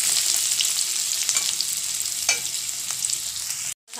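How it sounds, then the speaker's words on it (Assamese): Small potatoes fry in a pan over low heat with a steady, close crackling sizzle and a few light stirring scrapes, before the sound cuts out abruptly. "এতিয়া এইখিনি ধুনীয়াকৈ ভাজিব লাগিব, একদম কম জুই, কৰকৰি হোৱাকৈ ভাজিব লাগিব।"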